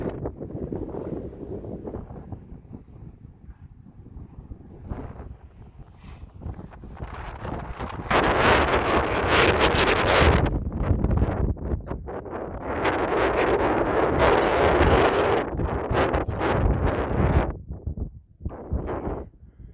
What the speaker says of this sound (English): It's probably very windy.